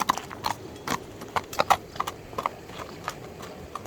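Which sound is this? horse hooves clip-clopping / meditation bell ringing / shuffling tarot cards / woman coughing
horse hooves clip-clopping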